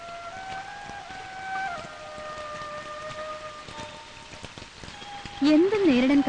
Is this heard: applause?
no